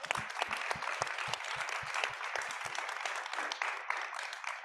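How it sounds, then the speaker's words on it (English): Brisk audience applause at a corporate gathering in a global headquarters, many hands clapping in a thick, even patter with a few distinct nearby claps, sustained for several seconds without speech. "And we just want to give her a big round of applause"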